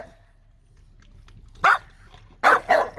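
Dogs bred at a kennel barking, with a few loud, close barks in a short burst after a quiet stretch, the last ones coming in quick succession.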